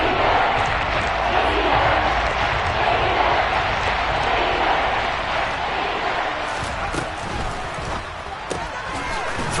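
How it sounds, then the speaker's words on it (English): A large stadium crowd in a Chiefs versus Dolphins football video game roars and shouts continuously while a replay plays, a dense, steady wall of cheering that stays loud throughout. "Shouts from this crowd as they watch the replay."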